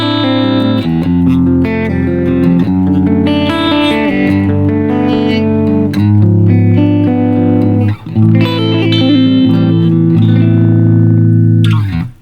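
A Luke model electric guitar with a 5-way selector switch plays a chiming, glassy tone, loud and close as sustained chords and melodic lines ring out alone for about twelve seconds.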